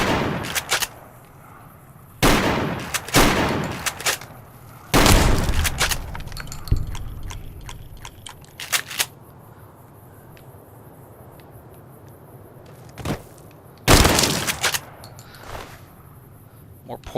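Several loud shotgun blasts from a shotgun in the game Fallout New Vegas, spaced irregularly across the stretch with a faint insect-like hum and game ambience between shots.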